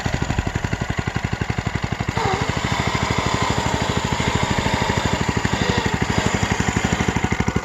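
Homemade remote control car/tractor with a wooden frame, its engine chugging in a rapid, even putter close by, growing slightly louder after the first couple of seconds, running steadily with no talking.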